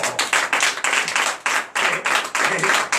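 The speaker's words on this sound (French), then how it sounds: "je vous demande de l'applaudir très fort" Loud, rhythmic clapping from a congregation at a night deliverance prayer service in Comè, Benin, beating in strong regular bursts close by.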